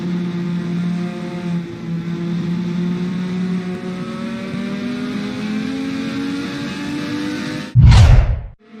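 Several IndyCar race cars roar past together in a pack, a sustained high engine whine with shifting pitch, ending in a loud close burst as a car sweeps by.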